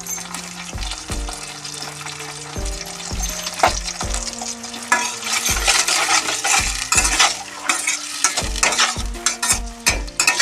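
Chili chicken coated in soy, chili and tomato sauces is stirred in a sizzling pan, with a spoon knocking repeatedly against the metal in an uneven rhythm, close and fairly loud.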